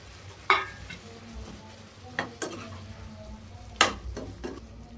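A spoon stirs fried chilli chicken into a thickened sauce in a pan, giving a few scraping clacks against the metal over a low, steady sizzle.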